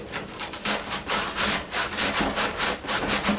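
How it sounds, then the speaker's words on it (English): Onion being grated for coleslaw, a steady run of rough, rhythmic scraping strokes close up, repeating about every third of a second with no talk. "Since I do not want hunks of onion, I'm just grating it."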